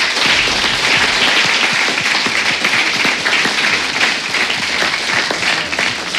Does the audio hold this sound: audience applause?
yes